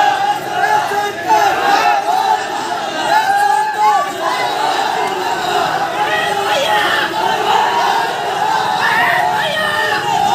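A large crowd chatters and cheers at a village head's election victory celebration in Fatehpur, Uttar Pradesh, with dense overlapping voices and shouts at a steady loud level throughout.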